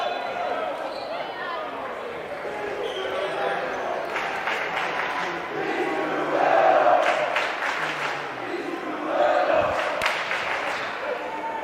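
Basketball crowd in a school gym groaning and murmuring in displeasure after an offensive foul call, a steady broad roar with two louder swells, with commentators talking over it.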